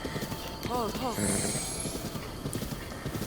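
A horse in the video game Zelda Breath of the Wild clip-clops with steady hoofbeats and lets out a short whinny near the start, with someone talking over it.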